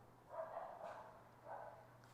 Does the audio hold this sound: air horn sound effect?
no